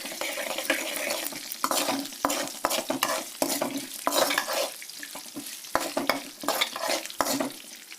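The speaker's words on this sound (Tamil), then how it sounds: "இதில் வந்து கடலப்பருப்பு உளுந்து கருவேப்பிலை கொத்தமல்லி போட்டு நல்லா இது செவக்கிற வரைக்கும் வந்து வறுத்துக்கலாம்" Mustard seeds, chana dal, urad dal, curry leaves and coriander frying in hot oil, a steady close sizzle broken by repeated sharp spoon scrapes and stirs against the pan, with no voices.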